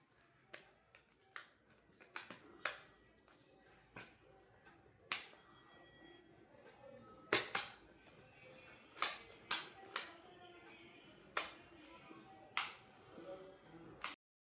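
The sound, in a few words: toy gun firing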